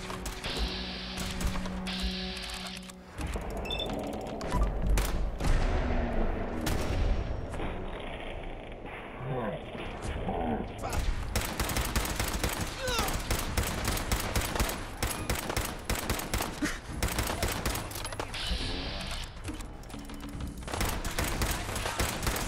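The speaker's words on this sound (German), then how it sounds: "Schüsse." Continuous gunfire in Fallout 4, dense rapid shots and bursts like automatic weapons firing without pause, loud and busy throughout with thuds and mechanical clatter mixed in.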